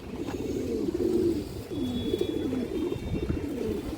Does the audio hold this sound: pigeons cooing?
yes